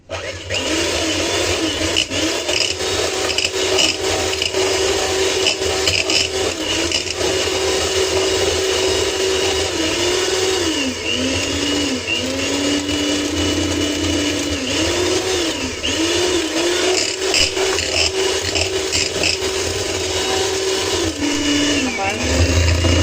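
An electric mixer beats eggs at medium speed while sugar is added, making a loud, steady whirring drone that stays close throughout with slight shifts in pitch.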